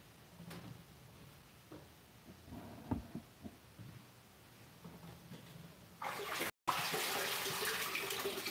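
Kale rinsed under a running kitchen tap: soft handling clatters and splashes at first, then a sudden loud rush of running water takes over, briefly cut off and resuming strongly.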